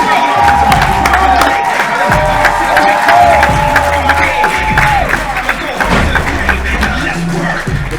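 Wrestling crowd at a tag team title match cheering the Bash Brothers, a steady, dense roar of cheers, whoops and applause with scattered thuds, loud throughout while a commentator talks over it.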